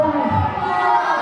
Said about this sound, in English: Oh, this crowd, listen, calling him boring.